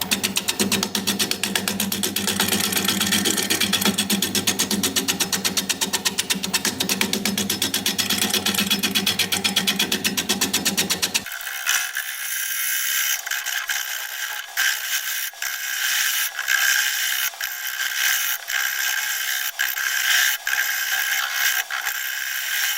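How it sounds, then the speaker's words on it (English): A wood lathe with a tool making a shear scraping cut on a turned wooden bowl: a dense, continuous rough scraping for about eleven seconds, then a quieter spinning whir with regular light ticks. "I'm going to try and do a little shear cut right here, a little shear scraping."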